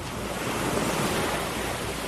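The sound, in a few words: ocean waves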